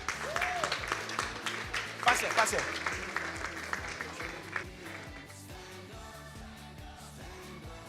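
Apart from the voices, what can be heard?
audience applause at a calculator competition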